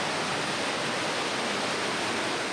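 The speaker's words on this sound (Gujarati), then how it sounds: "ગામ વચ્ચેથી જાણે કે નદી પસાર થઈ રહી છે" Floodwater after heavy rain rushes through a street in Narmala village, Jamnagar, like a river, a constant loud broadband roar of flowing water with no voices.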